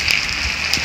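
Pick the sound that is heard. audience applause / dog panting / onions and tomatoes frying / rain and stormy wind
rain and stormy wind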